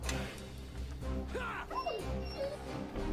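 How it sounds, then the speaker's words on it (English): A dire wolf, an immense gray wolf in the fantasy game Neverwinter Nights 2, whimpers and yelps in a short run of high whining cries over a dense, steady game soundtrack and combat noise. "poor doggy noises"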